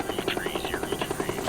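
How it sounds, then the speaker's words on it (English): A military medevac helicopter flies over Vietnam during the war, its rotor beating in a fast, steady chop, close and prominent with a voice talking over it. "a medevac chopper is en route to take them to one of the 18 military hospitals in"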